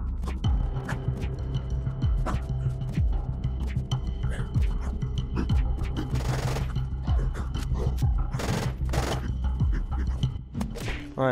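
Rapid bursts of automatic gunfire from a Zolash in the survival game Unturned, fired at zombies on an arid map, crackling in fast repeated volleys over a steady low rumble with occasional sharper blasts.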